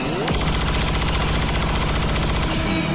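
Gunfire in the video game XCOM 2 comes as a loud, rapid, steady stream of shots that rattles like a machine gun across the whole stretch, with a sharp crack near the start and no voices heard.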